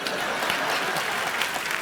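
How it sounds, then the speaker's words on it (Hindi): A studio audience at a Hindi comedy show applauds in a steady, dense wash of clapping that fills the whole moment without pause. "और एक बार जोरदार तालियां टॉप की अदालत की।"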